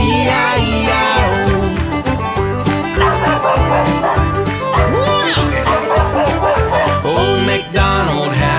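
A dog barks repeatedly within the upbeat Old MacDonald nursery rhyme, the barks landing loud and rhythmic over bouncy children's music.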